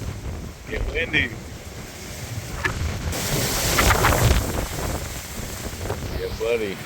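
Strong hurricane wind in Palm Bay, Florida buffets the microphone in loud, rising and falling gusts, with faint voice-like sounds behind it.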